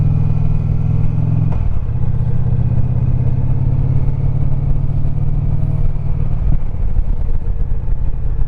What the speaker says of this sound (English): Oncoming car just hauling butt.